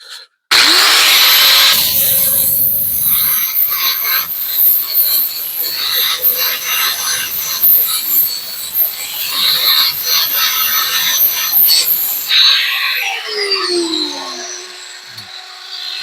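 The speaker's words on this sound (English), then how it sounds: "That old grinder" An old angle grinder with a sanding disc works a wooden corner, a loud, continuous rasping whine that holds steady for most of the stretch, then cuts off and leaves a fading hum near the end.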